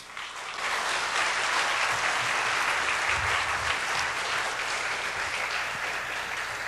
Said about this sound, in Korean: 우리 김윤희 박사님 나오실 때 여러분들 사랑의 마음 또 감사의 마음 담아서 뜨거운 박수로 우리 환영하도록 하겠습니다